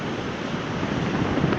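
Waves wash onto the shore at Pantai Kasap beach in Pacitan, with wind buffeting the microphone; a steady, dense rumble of surf and gusts throughout, no voices.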